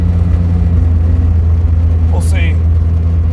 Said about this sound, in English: Transmission's loud.